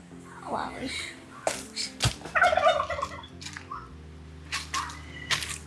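A hen clucks and squawks loudly in bursts, with a person talking nearby between the calls.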